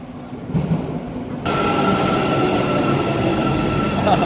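Taksim metro train arriving at an Istanbul underground station, a loud steady rumble of wheels and carriage noise that swells and holds with a faint squeal near the end, no talk.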